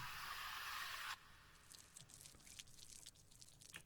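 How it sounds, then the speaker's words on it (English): A burst of hissing water spray cuts off abruptly, followed by scattered wet drips and squelchy, pitch-bent watery Foley blips in a music production project, fairly quiet and close. "these kind of effects noises, the water spray, the vinyl water, and the pitch bent water"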